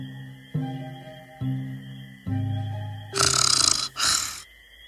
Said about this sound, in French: Qu'importe que tu ronfles comme ça, mon amour.